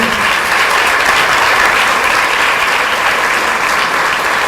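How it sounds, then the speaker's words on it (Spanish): Sustained applause from a conference audience, steady and dense clapping throughout, fairly loud and continuous without any voices standing out. "Nuevamente un aplauso"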